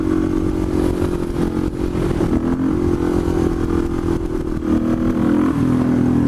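A supermoto motorcycle accelerates hard in third gear, engine roaring loud and close, then a brief dip in pitch marks the upshift into fourth before the engine pulls again.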